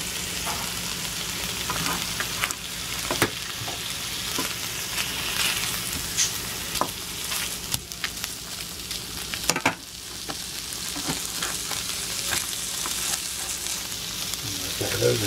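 Potatoes fry in a pan with leftover steak and eggs nearby, a constant close sizzle and crackle broken by occasional sharp pops and scrapes, with no voices over it.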